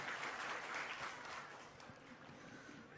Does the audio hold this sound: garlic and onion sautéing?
no